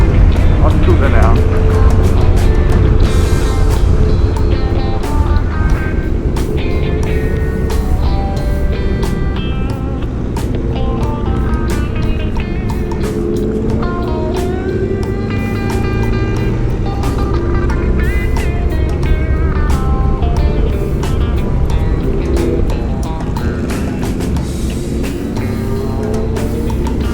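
A motorcycle engine drones steadily at speed during the Distinguished Gentleman's Ride group ride in Cape Town, loud and continuous with wind rush, while someone talks over it throughout.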